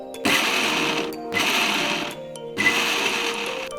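A mixer grinder pulses grated radish for mooli paratha in three loud bursts of a whining motor, each about a second long and separated by short pauses.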